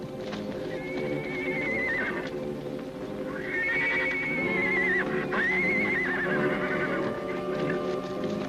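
Horses whinny loudly several times, long rising-and-falling calls over a steady clatter of hooves close by.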